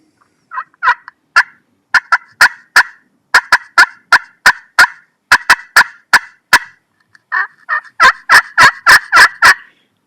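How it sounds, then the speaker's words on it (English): Wild turkeys clucking and yelping: sharp, rhythmic bursts of calls in quick series, with pauses between, ending in a faster run of yelps, clear and close with no talk. "turkeys can make between 24 and 26 different vocalizations"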